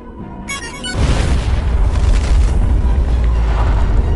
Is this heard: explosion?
yes